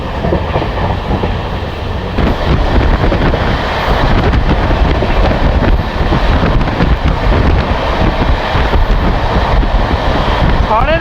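Netaji Express, the 12311 Howrah–Kalka train on its first LHB coach run, running at about 110 km/h through Baruipara station: a loud, steady onboard roar with clickety-clack of wheels and wind buffeting the microphone throughout.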